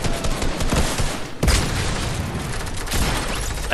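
Rocket launcher blasts and explosions in Fortnite Chapter 2 sound over dense, continuous gunfire and battle noise, with one sharp heavy boom standing out midway.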